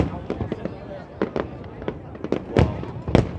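Fireworks burst in a Lunar New Year Tet celebration display, a rapid series of sharp booms and crackles at varying distances, some loud and close, others fainter, with voices in the background.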